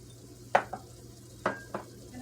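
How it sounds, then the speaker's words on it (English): Onions hit browned ground beef in a pan for hamburger stroganoff. A low sizzle runs under a few sharp scrapes of the spatula, which come in two pairs. No one speaks. "it looks like it's getting really browned here, so now I'm going to add the onions."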